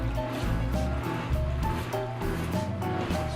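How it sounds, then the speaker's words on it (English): Water slops and trickles steadily out of a container as one corner is lifted to tip it out, a continuous close splashing pour with no talk. "Now I should be able to get most of the water out of this thing"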